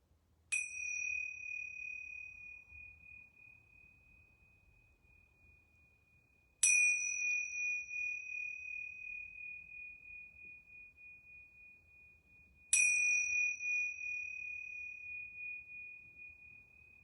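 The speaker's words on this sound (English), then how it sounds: "I'm going to ring these yoga bells 3 times." Yoga bells rung three times during a resting pose, each strike a clear bright ding that rings on and slowly fades, spaced about six seconds apart in an otherwise quiet room.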